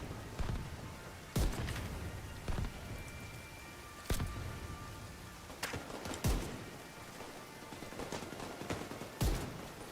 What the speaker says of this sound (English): Oh, the fireworks are going off.